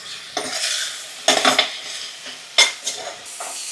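Tomatoes frying in a pan are stirred with a utensil, making sharp scraping clatters in separate bursts over a faint, low sizzle.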